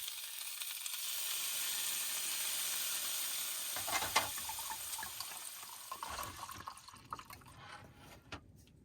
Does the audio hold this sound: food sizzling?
yes